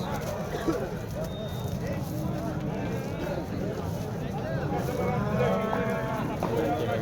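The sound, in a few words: rams and sheep bleating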